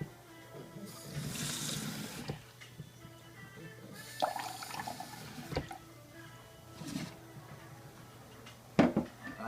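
Tap water poured into a measuring cup in a kitchen while baking a cake, coming in a few separate gushing bursts with pauses, soft and close, plus a couple of sharp clunks near the end.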